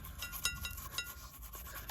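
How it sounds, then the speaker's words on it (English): A toothbrush scrubs brake dust out of a car's rear brake caliper after a spray of brake cleaner, making a steady rasping rub with rhythmic strokes, close and moderately loud with no talk. "just rub it in there because we need to get all that brake dust out"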